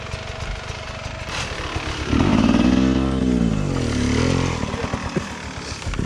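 Dirt bike engine on a motocross track revving hard, a loud rising and falling howl with clear harmonic sweeps over a steady idle rumble, then dropping back to a rough burbling idle.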